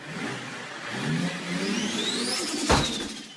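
A 750 hp 2017 Nissan GT-R running E85 with blow-off valves, Akrapovic exhaust and catless downpipes revs steadily, with a rising whistle and a short sharp whoosh near the end, heard from inside the car.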